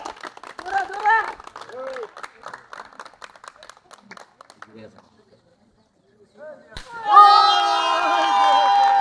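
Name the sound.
audience clapping at a village blindfold pot-breaking game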